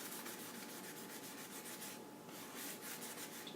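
Soft, steady rubbing as paste is worked by hand onto the surface of a jack o'lantern, a faint continuous scrubbing texture with a slight bump at the very end and no talking.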